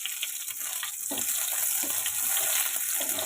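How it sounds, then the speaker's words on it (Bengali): Chopped onion fries in hot oil seasoned with black cumin seeds, giving a steady, close sizzling hiss with light crackles throughout and no voices. "পেঁয়াজ কুচিটা ভেজে নেব।"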